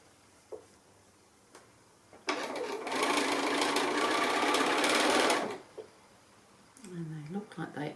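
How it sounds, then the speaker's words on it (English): A sewing machine stitches 1 1/2-inch quilt strips together with a loud, fast, continuous mechanical whir lasting about three seconds, framed by a few handling clicks before and a voice speaking afterward. "So I'll go ahead and sew this one together so that you can see the whole block being made"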